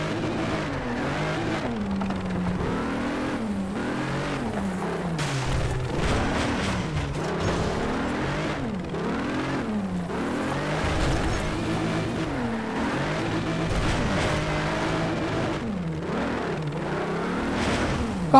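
A racing car engine in Need for Speed: Shift 2 Unleashed revs hard and unbroken, its pitch climbing and dropping through repeated gear changes and throttle swells, loud and constant throughout.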